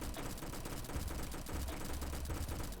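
A Roblox Bad Business Uzi loaded with a .45 ACP drum fires one continuous rapid burst, a dense rattling stream of shots that stays steady and fairly distant for about three seconds.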